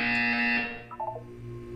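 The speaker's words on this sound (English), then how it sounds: "You will hear the buzzer." A Portal 2 buzzer sounds as a loud, sustained tonal drone, then cuts off and leaves a few brief electronic blips with a low hum underneath.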